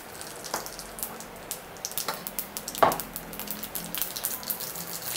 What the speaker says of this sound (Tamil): இப்போ நம்ம அதில் வந்து எண்ணெய் நல்லா ஹீட் ஆகிடுச்சு. கடுகு உளுத்தம் பருப்பு